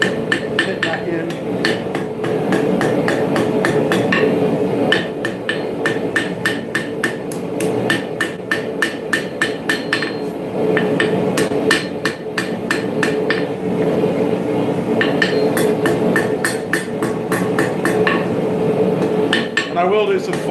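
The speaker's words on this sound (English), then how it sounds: "Just light taps, just dress that bit back in." Light hammer taps ring out on a dagger blade being forged at a smithing anvil, a steady run of close, bright metallic strikes with brief pauses between bursts.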